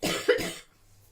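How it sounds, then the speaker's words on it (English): A person gives a single short cough, close and fairly loud, with a brief rough burst and then quiet. "I'm gonna cough again."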